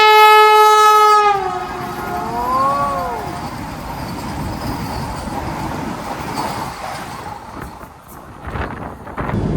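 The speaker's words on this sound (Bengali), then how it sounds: "মডগাঁও বন্দে ভারত এক্সপ্রেস স্পিডে আসছে একদম" A Vande Bharat Express running from Chhatrapati Shivaji Maharaj Terminus to Madgaon sounds a long multi-tone horn, then roars past at speed with steady rumbling wheel and carriage noise that stays loud to the end.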